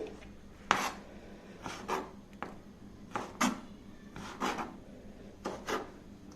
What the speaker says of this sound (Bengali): একদম স্লাইস করে করে কেটে নিচ্ছি।